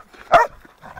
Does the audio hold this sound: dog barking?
yes